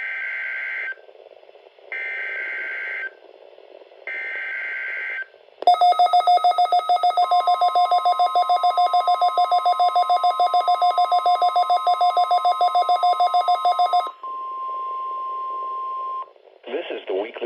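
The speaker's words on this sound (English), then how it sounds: "The weekly test of the NOAA Weather Radio Warning alarm" NOAA Weather Radio weekly test of the warning alarm: three short buzzing beeps, then a long, loud, harsh warbling alarm tone with a steady high pitch beneath it, followed by a brief chirp at the end.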